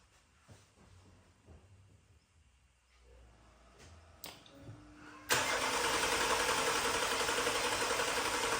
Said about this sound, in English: the engine started almost right away